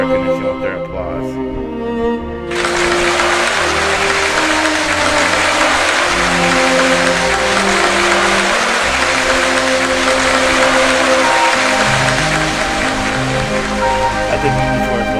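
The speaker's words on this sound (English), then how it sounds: "relatives all looked at each other and started applauding once" Applause in the Umineko When They Cry visual novel on PC: a sustained, dense crowd clapping that starts suddenly and continues at full strength under steady background music.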